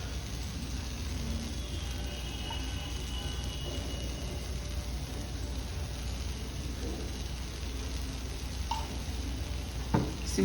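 A cheese dosa on a hot pan over low flame gives off a steady, soft sizzle that runs evenly the whole time, faint and continuous with a small clink near the end.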